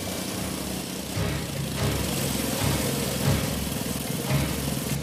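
Engine of a sand crawler vehicle in a cartoon, a steady low chugging drone that runs continuously throughout at moderate loudness.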